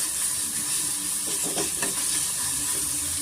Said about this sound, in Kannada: ಸ್ವಲ್ಪ ಅದ್ರ ರಾಸ್ ಮೇಲೆ ಹೋಗೋವರೆಗೂ ಸ್ವಲ್ಪ ಫ್ರೈ ಮಾಡ್ಕೊಳ್ಳೋಣ